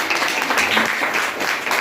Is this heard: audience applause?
yes